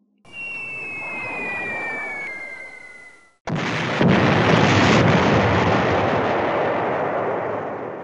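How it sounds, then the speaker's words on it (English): Wargame bomb explosions from a B-17 Flying Fortress bomber group's salvo: a falling whistle for about three seconds, a brief silence, then a loud, sustained rumbling blast that roars on and slowly fades. "The group salvos her bomb load."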